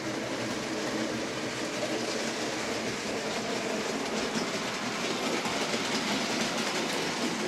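An OO gauge model breakdown train runs steadily along its track with a continuous rolling whir and light clicking rhythm, close and even throughout, no talking.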